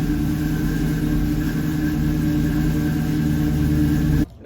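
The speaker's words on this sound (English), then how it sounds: "So let's move some cars." A classic car's engine runs steadily at a low idle, a loud, continuous mid-range rumble that holds throughout and then cuts off abruptly near the end.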